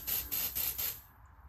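Aerosol spray aimed into an X-Sense interlinked smoke alarm in a house's master bedroom, four quick close hissing bursts in a steady rhythm, then quiet.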